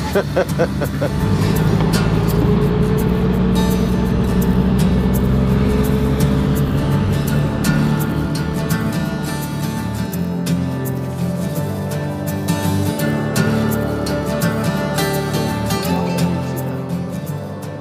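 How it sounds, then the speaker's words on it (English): A bus engine runs steadily just after starting, a loud, close, continuous low rumble with a throbbing idle tone that holds throughout. "Anytime the bus starts, it's a good day."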